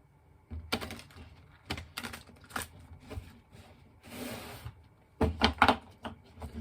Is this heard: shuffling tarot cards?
yes